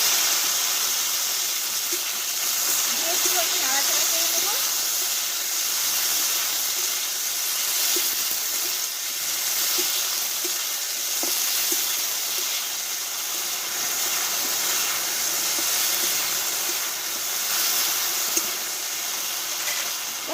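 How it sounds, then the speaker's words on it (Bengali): Black mustard seeds and jujube flowers fry in hot oil with green chillies, producing a continuous soft hiss and sizzle with faint crackles and no talking. "আর এই তেলে কিছুটা আমি কালো সর্ষে দিয়ে দেবো ফোড়নের জন্য"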